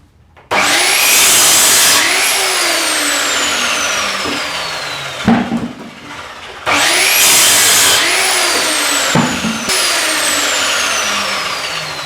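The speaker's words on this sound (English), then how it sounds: "So what I do is I avoid the screws with the saw so I don't damage the blade" A DeWalt power saw cuts old site scrap wood containing nails and screws, running loud and close in two long whining passes with a brief pause between, the motor pitch falling as the blade bogs in the wood.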